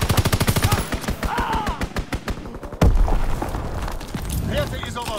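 Rapid machine-gun fire from an enemy aircraft strafing run in Call of Duty WWII rattles loudly in a fast, even burst, then a heavy boom hits, followed by more scattered gunfire and battle noise.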